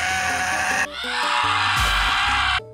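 A goat bleats in a series of loud, close, wavering cries, one sound shifting into the next in quick succession before breaking off abruptly.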